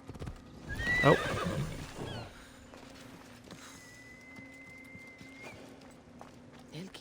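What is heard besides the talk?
horse galloping in the video game Assassin's Creed Odyssey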